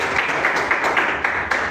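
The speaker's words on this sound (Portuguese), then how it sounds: "Salve de palmas de glória para Jesus de Nazaré" Applause from a church congregation during a sermon, steady dense clapping that fills the whole stretch without pause and swells slightly in places, with no voices over it.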